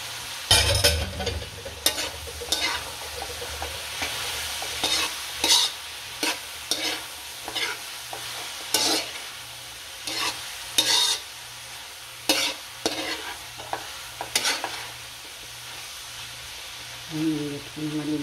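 String beans fry in a pan, a low sizzle running under repeated scraping stir strokes that come in uneven bursts, close by, with a brief voice near the end.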